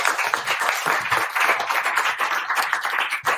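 A live audience at a recruitment podcast event in Manchester gives sustained, dense applause for the founder of a recruitment firm, a close wash of many hands clapping at once with no speech over it.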